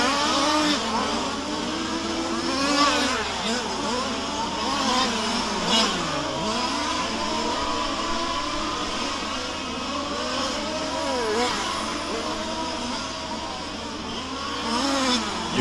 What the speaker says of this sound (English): Fast car on the track right now